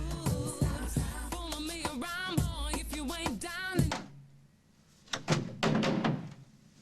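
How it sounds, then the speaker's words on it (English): Sharp door slams ring out in the second half, two or three abrupt thuds following a stretch of voices and musical tones. "It wasn't a gunshot, was it? No, a door slam."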